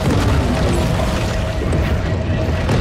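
Torpedoes exploding underwater in the video game Maneater: continuous loud, deep rumbling booms and churning water fill the whole stretch, dense and close with no pause.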